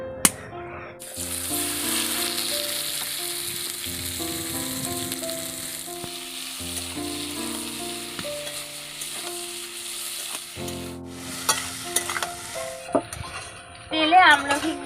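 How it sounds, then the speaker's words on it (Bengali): Indian gooseberries (amla) frying in mustard oil in a wok, a steady loud sizzle with occasional stirring scrapes and a few sharper clatters near the end. "তেলে আমলকিগুলোকে হালকা করে ভেজে নিয়েছি"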